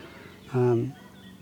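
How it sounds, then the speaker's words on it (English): A single loud, drawn-out Canada goose honk rises briefly out of a quiet outdoor background and then fades. "you can hear them in the background, there's a lot of Canada geese"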